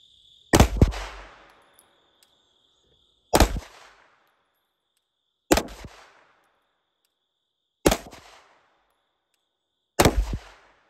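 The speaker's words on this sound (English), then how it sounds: "I'm going to shoot the one on the bottom left with the Glock." A Glock 19 pistol fires five single shots at an outdoor range target 15 yards away, each a sharp loud crack with a short ringing tail, spaced about two seconds apart.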